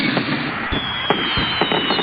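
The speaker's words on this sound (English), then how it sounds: "That night, all the engines were watching the firework display." Fireworks at a night display in a Trainz railway animation pop and burst in several separate, sharp booms spaced through the scene, fairly loud over a steady background hiss.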